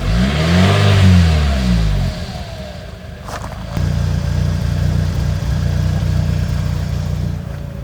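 Car engine fitted with a new aftermarket muffler revs loudly and rises in pitch, then drops to a deeper, steady rumble heard up close.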